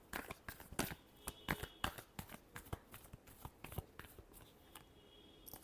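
Tarot cards are shuffled by hand in a quick run of crisp riffling snaps and papery flutters, close and fairly loud, with no talking.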